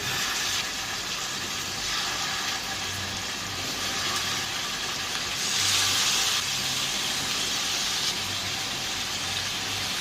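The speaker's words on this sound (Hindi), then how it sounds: "अब जैसे ही ऑयल गर्म होगा हम एक एक करके स्टिक इसके अंदर रखते चले जाएंगे।" Chicken steak sticks sizzle and hiss in hot cooking oil in a pan, a steady bright frying crackle that swells briefly, with no talking.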